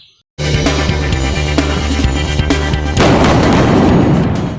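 Toy steel battle tank firing effect: a dense, loud barrage of booming blasts and bursts that runs continuously for several seconds and swells even heavier near the end, with no talking.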